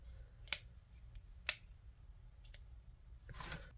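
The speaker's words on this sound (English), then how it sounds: "And click to turn them off." The tail switch of a Wurkkos HD02 camping flashlight gives two sharp, close clicks about a second apart, then fainter small taps and a soft rustle of handling.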